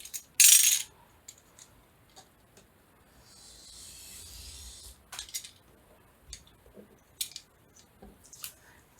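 Scissors snipping paper for a grungy junk journal page, with a sharp close clip at the start, a sustained rustle of paper, then several scattered short snips and taps at close range.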